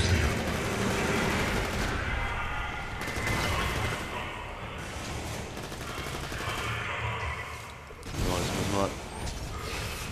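Gunfire in the shooter game Borderlands 2, bursts of rapid shots and mechanical clatter over a busy, loud game mix, with a voice talking at times.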